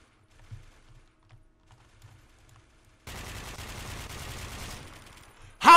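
AK rifle fire in the video game Warmode: a dense burst of rapid shots lasting under two seconds, loud and close, preceded by quieter scattered game noises and ending in a sharp loud hit.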